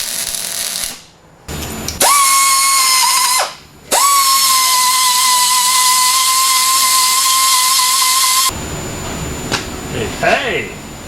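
An angle grinder spins up and grinds a welded-over wheel hole smooth in two sustained, loud, high-pitched runs broken by a brief spin-down, then tapers off into quieter scraping and rustling.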